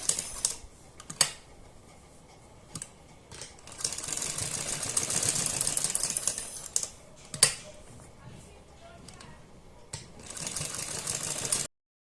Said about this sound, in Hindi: हम सिलाई लगा रहे हैं ये हमें थोड़ी ध्यान से लगानी है।